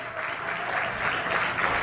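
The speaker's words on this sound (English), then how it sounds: "Let's give a warm round of applause for Dr." An audience gives steady applause in a hall for Dr. Ben, a dense wash of clapping that holds even for the whole short stretch.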